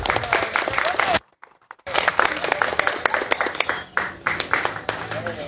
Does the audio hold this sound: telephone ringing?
no